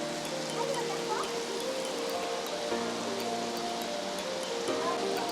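Rain falls outdoors at the Futuroscope theme park in a steady, soft hiss that continues evenly throughout, fairly faint, with faint background voices and distant ambient noise.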